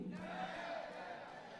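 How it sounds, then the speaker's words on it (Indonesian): A crowd at a PORDI inauguration ceremony shouts and cheers together in unison, a sustained mass of voices at moderate distance that fades slightly toward the end. "Sama-sama kita sorakan Pordi."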